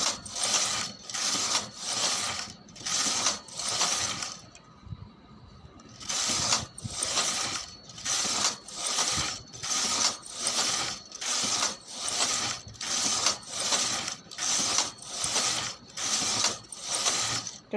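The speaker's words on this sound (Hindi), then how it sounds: "यहाँ पर इस तरह से इसे प्लेन नीट करूँगी" A knitting machine carriage runs back and forth knitting plain rows in a simple colourful pattern, giving a loud, steady series of rattling mechanical sweeps with one brief pause, no voices.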